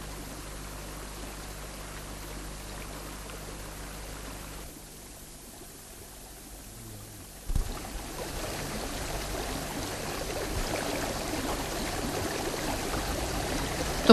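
The Temštica river rushes over rapids near the village of Temska, a steady, broad wash of flowing water that dips briefly midway before returning louder and more turbulent.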